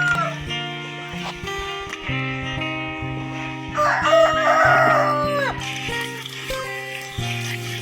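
A chicken just caught for tinola squawks and clucks close up in a yard, loud, agitated cries rising and falling over several seconds, with people talking over and between them.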